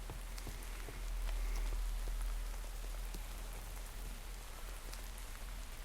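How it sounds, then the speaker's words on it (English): Rain falls steadily in a Minecraft modpack world, a soft, even patter of droplets with a low rumbling bed that swells slightly and then continues unbroken. "It's raining."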